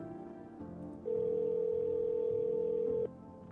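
Telephone ring tone heard through a handset while calling a neighbor in a horror video game, a single steady electronic tone lasting about two seconds over low game ambience.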